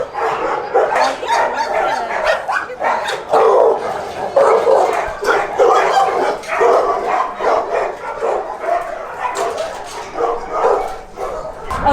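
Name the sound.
dog barking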